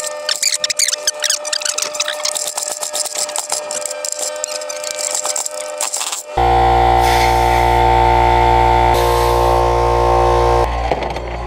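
A mini bike's small engine is pull-started, first with rattling, clattering starter pulls, then it catches and runs at a loud, steady buzzing idle, with a brief dip before revving on.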